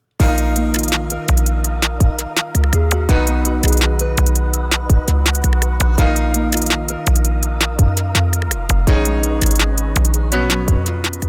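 A dark trap beat with deep booming 808 bass hits and rapid ticking hi-hats under a repeating melody, loud and continuous.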